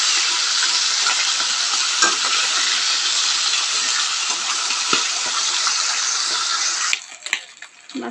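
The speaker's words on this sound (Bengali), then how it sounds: "তেলটা গরম হয়ে গেছে, তেলের মধ্যে আমি মাছ দিয়ে দেবো।" Fish fries in hot oil with a loud, steady sizzle and spitting crackle that holds for several seconds before dropping away into a few clattering knocks.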